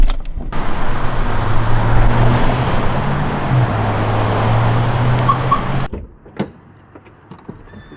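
A car drives with a steady, fairly loud road and engine rumble that fills most of the stretch, then cuts off abruptly, leaving quiet with a few faint knocks.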